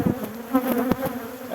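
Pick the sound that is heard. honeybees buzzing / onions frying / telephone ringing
honeybees buzzing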